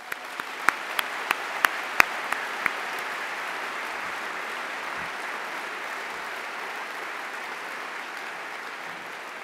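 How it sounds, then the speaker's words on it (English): An evening lecture audience applauds two speakers and a moderator with steady, dense clapping that fills the room from start to finish, with a few sharper claps standing out near the beginning. "I would like to thank our two speakers and our moderator with another round of applause"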